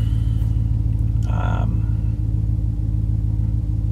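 A 2020 Ram 1500 Rebel pickup engine idles just after starting, a loud, steady low rumble heard from inside the cab, with a brief higher tone chiming once early on.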